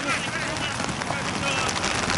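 Rain falls steadily during a football practice match, a soft continuous hiss of drops spread across the whole clip.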